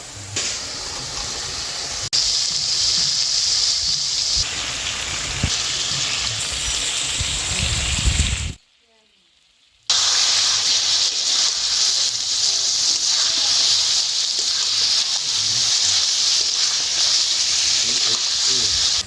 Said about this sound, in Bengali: এই যে এইবারে দিয়ে দেবো ভেজে রাখা চিংড়ি।